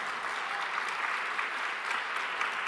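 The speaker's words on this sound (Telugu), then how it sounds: "విశ్వాసం ఉంటే చప్పట్లు కొట్టి దేవుని స్తుతించు." A church congregation claps together in praise of God, a dense, steady wash of applause filling the hall without any voices over it.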